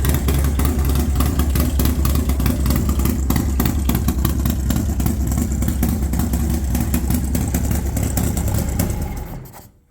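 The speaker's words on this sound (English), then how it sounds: "just finished doing the dyno tuning here on Henry's motorcycle" A Harley-Davidson FXLRS Low Rider with a 131 cubic inch M8 engine runs loud and steady at high revs on a dyno, with a dense mechanical roar that cuts off abruptly at the end.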